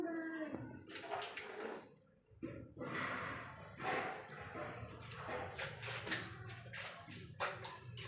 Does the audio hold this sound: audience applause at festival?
no